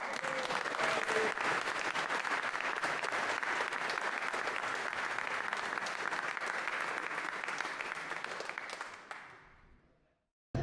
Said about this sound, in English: I think a round of applause for David,